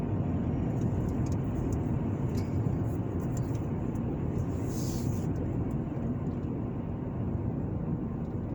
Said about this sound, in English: Right now, I'm just driving through.